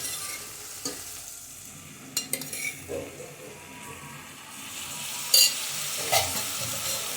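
Vegetable pulao base with curd being stirred and sautéed in a pan, quiet sizzling with scattered clinks of a spoon against the metal and a few sharp scraping knocks.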